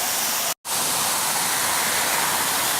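Sprinklers spraying water onto sidewalks make a dense, steady hiss like heavy rain, loud and close, broken only by a split-second dropout near the start.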